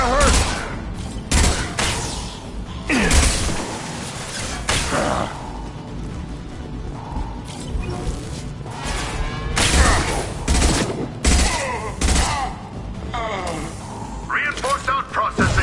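Rapid bursts of gunfire and crackling shots from the video game Mass Effect 2, loud and dense throughout, mixed with whooshes, mechanical clanks and shouted voices.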